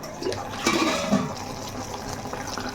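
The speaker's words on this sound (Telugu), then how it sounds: "ఇప్పుడు వాటర్ అనేది వేసుకుందాము" Water poured into a pot of goat head curry, a close steady splashing gush over a few seconds with no talking.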